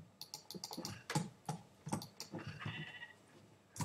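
Sheep in the Minecraft video game bleat a few times, mixed with steady keyboard typing clicks throughout, fairly quiet and close.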